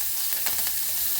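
Green chilies sizzle in hot tempering oil with asafoetida, a brief soft hiss of frying with a few faint crackles.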